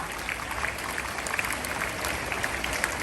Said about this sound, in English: A big hand clap for that great man.